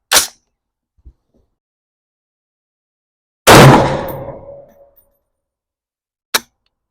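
A Ruger SFAR rifle fires at a 25-yard target outdoors: one loud, sharp report with a short decaying tail, framed by a couple of faint metallic clicks and a brief clack a few seconds later.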